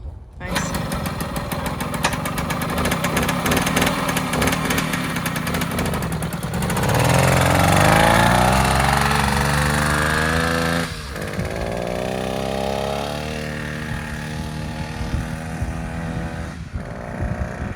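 A flood-damaged Chaparral ST80 boat engine cranks with a rapid mechanical rattle, then catches and runs at a loud, rising rev before settling into a steady idle, close by and continuous.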